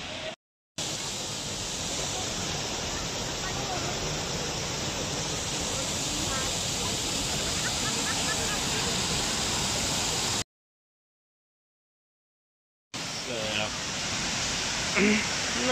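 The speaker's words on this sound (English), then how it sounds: "there we have absolutely stunning view with 3 or 4 waterfalls in junction" Loud, steady roar of three or four waterfalls joining at Bergpark Wilhelmshöhe, Kassel, broadband and continuous, broken by a brief stretch of silence before the rushing returns.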